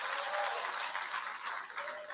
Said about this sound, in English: if you're a young person, you've got to clap your hands